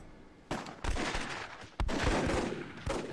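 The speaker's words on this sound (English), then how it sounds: "Here we go to unleash with that heavy machine gun" Heavy machine gun fire in a video game, loud broadband bursts starting with sharp onsets and running in sustained volleys, with a brief break before another burst near the end.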